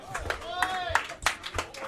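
A small comedy-club audience claps for a comedian after his elephant jokes, uneven scattered claps with a few cheers and voices mixed in.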